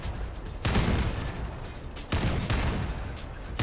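Fat Man cannon firing in the vehicle combat game Crossout, two heavy booming shots about a second and a half apart, each with a rumbling tail, close and fairly loud.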